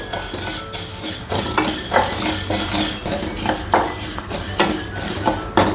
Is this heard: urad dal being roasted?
yes